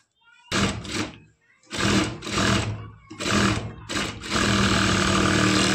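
Sewing machine stitching the neckline of a lehenga blouse in several loud bursts separated by short pauses, finishing with one longer continuous run.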